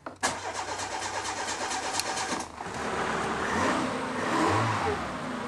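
A salvaged car with about 100,000 km, checked at a towing yard, cranks with a rapid rhythmic starter whir for two seconds, then catches and settles into a steady running engine note at moderate distance.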